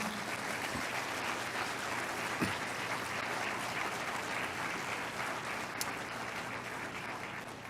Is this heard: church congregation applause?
yes